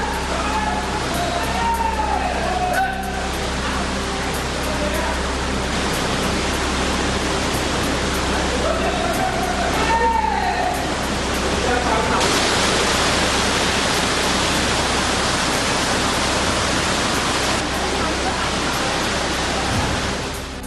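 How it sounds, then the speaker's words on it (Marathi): Heavy monsoon rain around the Pali temple in Raigad, a dense steady hiss of downpour that grows louder partway through and continues unbroken. "रायगड जिल्ह्यात सुरू असलेल्या मुसळधार पावसामुळे पाली मंदिर परिसरात पावसाचं पाणी साचलं"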